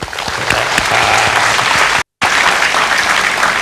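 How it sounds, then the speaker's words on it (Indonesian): Audience applause at a ceremony welcoming an honored guest: dense, sustained clapping from a sizable crowd, steady and loud for several seconds, with a brief cut before it resumes. "Kita beri tepuk tangan untuk Pak Gufron."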